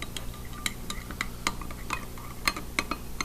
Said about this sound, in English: And then you're just going to stir that up.